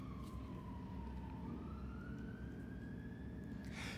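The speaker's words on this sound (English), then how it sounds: "just waiting for the siren." An emergency vehicle siren wails with one slow, continuous rising tone over a steady low rumble of traffic, then fades toward a brief noisy burst at the end.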